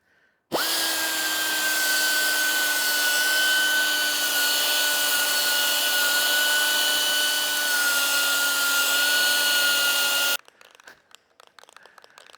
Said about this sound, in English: I'm going to take my little sanding machine here and clean it up